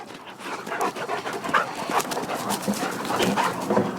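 Dogs pant rapidly and heavily at close range while playing, with occasional whimpers and small yips mixed into the steady breathing.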